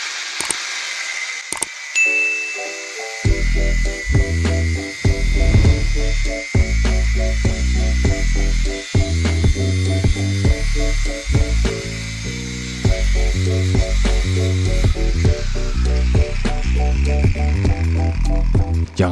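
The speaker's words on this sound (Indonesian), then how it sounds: "Ukur dan potong besi sikunya." Perforated steel angle bar, 4x4 cm and 1 mm thick, is cut with a power tool for a workbench, a ringing metallic whine broken into repeated buzzing bursts and clanks, loud and close.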